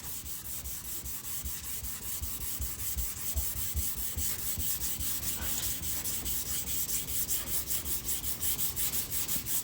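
Dry block sanding of primer, worked in small areas with an X pattern, makes a continuous rhythmic rasping scrub of quick back-and-forth strokes, close up and steady throughout.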